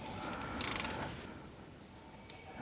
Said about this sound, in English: So let's bring cylinder number 2 around to top dead center.